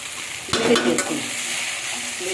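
Peanuts frying in a pan with salt added for biryani: a low steady sizzle, then a sudden louder burst of scraping and clinks as the pan is stirred, settling back to a quiet fry.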